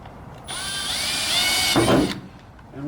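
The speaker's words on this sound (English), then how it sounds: "And we're going to drill a hole." A power drill fitted with a small 5/64 bit bores a pilot hole for an electrical inlet on an enclosed car hauler trailer. A single close, loud, high whine lasts about a second and a half, then cuts off.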